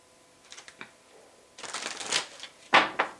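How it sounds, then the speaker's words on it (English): A Wisdom Oracle tarot deck is shuffled by hand: a few light, quick riffles give way to two longer, louder shuffling bursts, close up and with no talking. "We get 3 shuffles on these."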